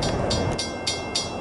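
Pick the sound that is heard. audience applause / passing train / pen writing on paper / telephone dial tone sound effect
passing train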